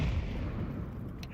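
A grenade blast in Counter-Strike 2, a dense low rumbling boom that fills the brief moment and trails off, heard alone without speech.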